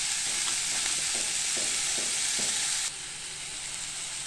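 Cluster beans stir-fry with onion garlic masala in a pan, a bright, steady sizzle close up, with several soft spatula stirs early on before the hiss drops to a quieter level; no one speaks.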